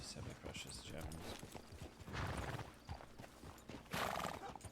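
A horse in a Red Dead roleplay setting clops along with steady hoofbeats, then a loud neigh near the end, with a voice talking over it.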